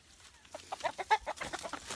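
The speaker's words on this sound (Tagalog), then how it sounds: "gutom na gutom na po yung aking manok" Hungry chickens cluck in quick, close bursts, several short calls overlapping over a quiet background.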